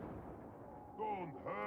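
Rapid gunfire from enemy gunners in the video game Darktide bursts out loudly amid the action, with a voice talking over the shots.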